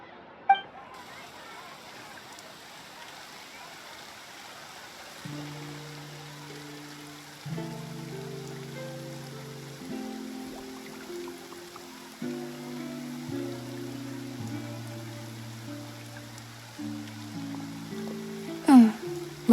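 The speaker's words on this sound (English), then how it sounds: "Looks like rain." Rain falls in Genshin Impact's city of Fontaine, a soft steady hiss beneath a calm melodic music score, with a faint clink near the start and another near the end.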